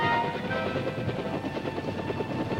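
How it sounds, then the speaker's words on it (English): A light observation helicopter of the Vietnam War era flies over dense jungle, its rotor chop and engine a steady, loud drone throughout. "light observation helicopters were used."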